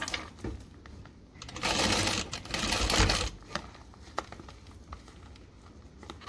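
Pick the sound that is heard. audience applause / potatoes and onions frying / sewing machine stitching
sewing machine stitching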